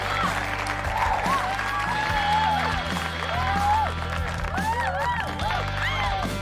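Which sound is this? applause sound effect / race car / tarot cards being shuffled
applause sound effect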